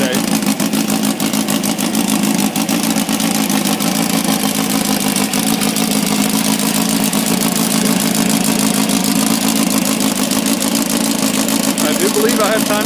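Funco buggy engine idling after a cold start on a 45-degree December day, a steady, even mid-pitched chug that holds unchanged throughout, close and loud.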